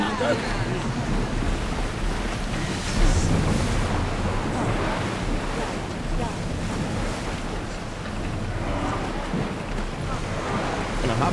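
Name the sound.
ship sailing through ocean waves in Assassin's Creed Odyssey video game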